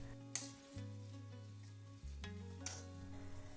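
An Indian patty mixture with mashed potatoes is stirred in a pan with a soft sizzle and scraping strokes, with two sharp clinks of the spoon against the pan.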